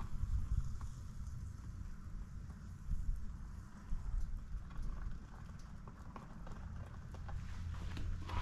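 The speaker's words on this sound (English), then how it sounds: "Gotta hurry up, it's raining." Steady rain falling outdoors, a dense even hiss of drops on surfaces that carries on without a break and sits at moderate volume, with no talking over it.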